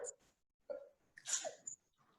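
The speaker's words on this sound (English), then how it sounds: "I'm gonna sneeze." A single sharp sneeze from an adult physician, close and fairly quiet, preceded by a short intake of breath and followed by a brief murmur.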